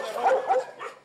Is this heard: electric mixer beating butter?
no